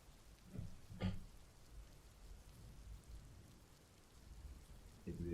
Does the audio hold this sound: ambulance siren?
no